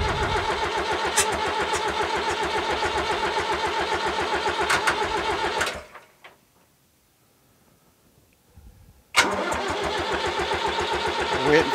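A diesel engine on a 990 runs with a loud, steady rhythmic clatter, cuts out into near silence for a few seconds, then abruptly fires up again and settles back into its heavy chugging.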